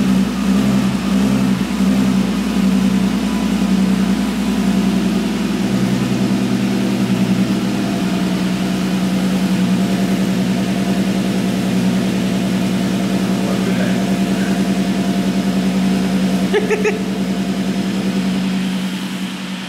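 A car engine idles continuously through a new stainless steel exhaust, giving a close, steady, deep muffled hum with slight rhythmic pulsing and a faint brief sound near the end.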